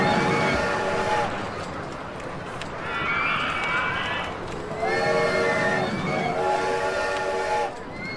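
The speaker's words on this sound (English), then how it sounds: "Prepare to hear that freaking train." A train in the theme-park game OpenRCT2 rumbles along steadily, with repeated tonal whistle-like blasts over a dense background, loud and continuous.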